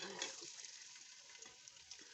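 Chopped onions go into one cup of hot oil in a pressure cooker for bong gosht, giving a steady close sizzle and crackle that flares briefly near the start, then settles into an even frying hiss with no talking.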